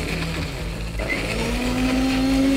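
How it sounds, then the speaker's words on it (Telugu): A kitchen mixer grinder blends cucumber and mint juice with plain water, a steady loud motor whir that runs continuously and rises slightly in pitch as it spins up. "ఇప్పుడు ఇది మిక్సీ"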